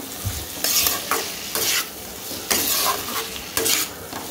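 Potatoes and soybean chunks being stir-fried in masala in a pan, with repeated bursts of spatula scraping and stirring over a steady close sizzle, no talking.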